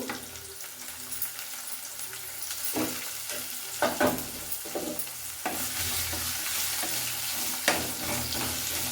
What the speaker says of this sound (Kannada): ಈಗ ನಾನು ಈರುಳ್ಳಿನ ಹಾಕ್ಕೊಳ್ತಾ ಇದ್ದೀನಿ